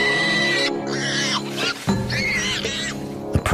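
A dragon in a fantasy docufiction gives a distressed prey-like call, a series of wavering, pitch-bending squeals and cries over a rumbling roar-like bed. The calls are close, loud and strained, with brief breaks between them.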